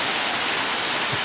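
Steady rain falls outdoors, a loud dense hiss of drops that runs unbroken and fills the whole clip without any voices.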